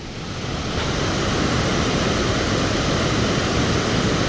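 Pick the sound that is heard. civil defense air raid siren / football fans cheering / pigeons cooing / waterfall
waterfall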